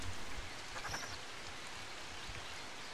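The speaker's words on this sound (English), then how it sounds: "Oh, it's raining now." Rain in the video game Final Fantasy XIII falls as a soft, steady patter of drops, faint and continuous with no other sounds over it.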